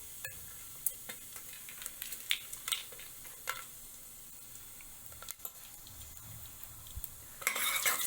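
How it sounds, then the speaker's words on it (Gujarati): Cumin seeds crackle faintly in hot oil in a pan while green fenugreek khichdi is being prepared, a soft continuous sizzle broken by scattered clinks of a spoon against the pot. "તેની અંદર 1 ટેબલ સ્પૂન જીરું ઉમેરવું। સરસ આવી રીતે તતડે"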